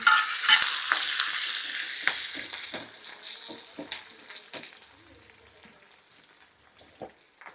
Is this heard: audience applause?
no